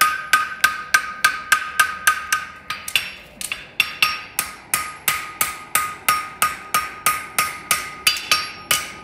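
A hind horseshoe is hammered on an anvil to bend the toe and push the concave border over, giving a long run of loud, evenly spaced ringing metallic strikes close by.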